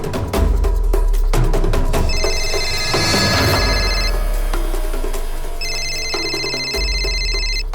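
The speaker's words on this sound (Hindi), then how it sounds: "किसका फोन है?" A telephone rings loudly in two bursts of electronic trilling, with strong low rumbling and other background noise throughout a tense police crime-drama scene.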